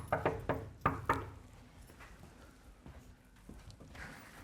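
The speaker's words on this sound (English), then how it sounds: "I'll get them to knock" Several sharp knocks on a door come in quick clusters at the start, loud and close, then fade into quiet room ambience with a few faint later taps.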